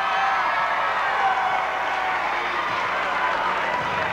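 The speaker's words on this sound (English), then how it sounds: "David Sammartino gets quite a roar from this capacity crowd" A capacity crowd at a 1985 World Wrestling Federation Championship Wrestling event roars loudly and steadily, a broad sustained wash of cheering and clapping that fills the arena throughout.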